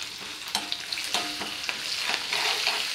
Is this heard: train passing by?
no